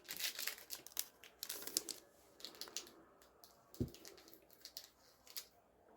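Crinkling and snipping of a plastic sauce packet being cut open with scissors, a series of close, quiet rustles and crackles with no talking.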